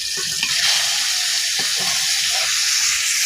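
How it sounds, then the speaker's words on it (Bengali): Koi fish frying lightly in hot oil in a kadai, a steady close sizzle and hiss with a few soft stirring clicks, no talking. "এই দেখুন কই মাছগুলো হালকা ভাজা দিয়ে নিচ্ছি"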